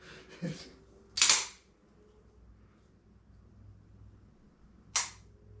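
A replica 1911 pistol in U.S. Army style being dry fired in a quiet room: a few sharp, isolated mechanical clicks spaced seconds apart, close and crisp against near silence.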